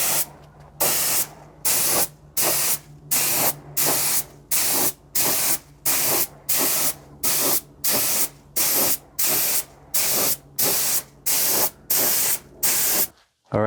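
Paint spray gun laying down a coat of paint in a touch-up repaint over masked areas, a loud hissing spray in about sixteen regular bursts of roughly half a second each, separated by short gaps, with no talking.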